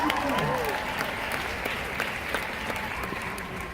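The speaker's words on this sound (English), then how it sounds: "It's a quiet applause. It's a golf applause." Quiet, scattered audience applause at a social media training event, a soft steady patter of claps with little crowd noise, continuing evenly throughout.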